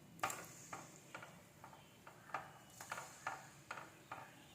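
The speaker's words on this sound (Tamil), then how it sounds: "மீடியம் ஃப்ளேமில் வச்சு பொரிச்சு எடுத்துக்காங்க" Milk sweet dough fries in oil over a medium flame, a soft steady sizzle broken by regular light ticks and taps every half second or so, close and fairly quiet.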